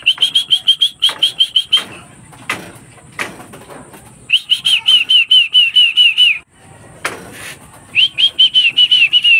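Racing pigeons return to their loft after a 296 km release from Vigan, with repeated wing-flap bursts and claps among rhythmic, high, clear whistles that come in strong pulsing runs close by.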